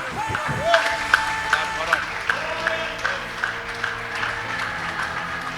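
A church congregation claps hands in praise during an evening service, a steady run of sharp claps spread through the hall under a preacher's raised, sustained voice and crowd sounds.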